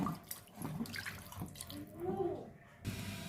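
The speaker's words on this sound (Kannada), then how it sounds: "ತೊಳ್ಕೊಂಡಾಗಿದೆ ಆ ನೀರನ್ನು ಸಹ ಈ ರುಬ್ಬಿರೋ ಅಂಥ ಸೊಪ್ಪಿಗೆನೆ ನಾನು ತೆಗೆದುಕೋತೀನಿ" Water used to rinse greens is poured into a batch of stone-ground greens, a brief splashing pour mixed with faint tap-like trickling and light handling noises.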